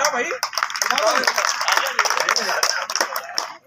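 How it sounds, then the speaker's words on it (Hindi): An audience at a Hindi poetry recital claps loudly, a dense, sustained burst of applause with voices talking over it throughout. "अगर कविता सुनना चाहते हैं तो जोरदार तालियां बजा दें"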